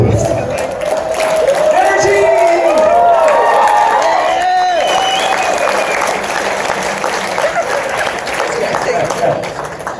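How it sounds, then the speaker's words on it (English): Sustained applause from an audience at a hypnotist show fills the clip, dense clapping that stays loud throughout while a voice rings out briefly over it. "And all this applause is for you."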